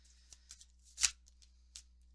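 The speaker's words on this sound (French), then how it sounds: "On va tirer vos deux dernières cartes de conseil." Oracle cards being shuffled by hand during a French-language card reading, heard as a few soft papery riffles with one louder flutter near the middle, close and quiet with no talking.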